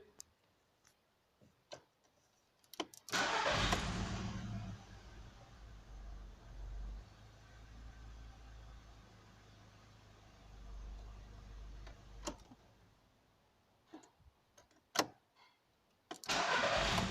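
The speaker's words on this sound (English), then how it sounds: "now I can start the engine" A 1.6-litre petrol Audi A3 engine cranks and catches at about three seconds, then settles into a steady, close idle with a few ticks and clicks around it, and it shuts off near the end.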